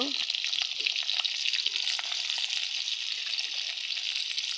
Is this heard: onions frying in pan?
yes